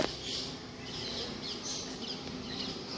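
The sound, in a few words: sparrows chirping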